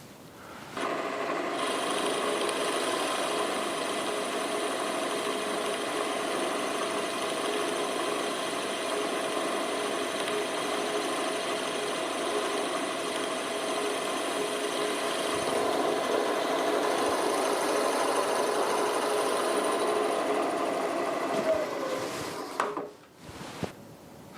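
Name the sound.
milling machine running at 800 RPM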